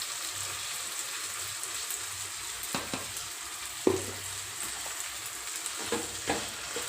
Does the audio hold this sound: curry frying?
yes